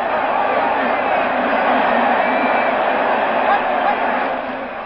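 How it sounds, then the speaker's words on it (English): Roaring crowd at a 1970 Cowboys at Giants football game in the stadium, a loud sustained wash of cheering and shouting that fades slightly at the end. "this crowd is going mad"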